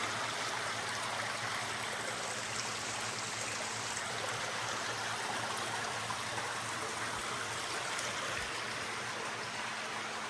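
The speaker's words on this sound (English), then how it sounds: "it opens to this water feature, which I showed you from the foyer, but here it is close up" A water feature outside a home office trickles and splashes continuously, a steady, moderately close flowing sound with no voices.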